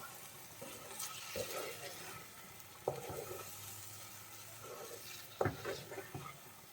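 Chicken masala being stirred in a pan, with soft scraping and a light sizzle beneath, a few sharper clinks of the spoon against the pan, fairly faint and close, while a person talks over it.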